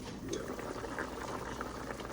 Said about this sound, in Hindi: पानी बॉयल हो चुका है।